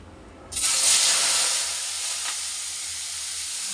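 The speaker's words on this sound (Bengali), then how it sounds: "এখন উচ্ছে কুমড়োটা ভেজে নিই" Bitter gourd and pumpkin dropped into a smoking hot wok burst into a sudden loud sizzle that then settles into a steady, slightly softer frying hiss.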